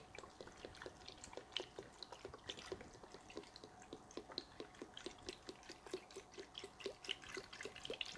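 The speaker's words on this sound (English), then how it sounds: "And it's still pouring." Chicken broth pours in a steady liquid stream into a Pampered Chef Quick Cooker, with a continuous trickle and fast dripping splashes lasting the whole stretch, close and fairly quiet.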